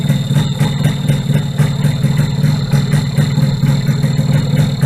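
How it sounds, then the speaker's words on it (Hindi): Yamaha RX-100 motorcycle engine running steadily after being restarted from six months of standing, a continuous loud low throbbing idle with no talk over it. "अब बाइक कंटिन्यू स्टार्ट चल रही है।"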